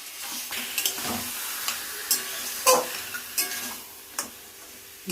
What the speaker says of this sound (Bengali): দিয়ে সব কিছু একসাথে ভালো করে কষাবো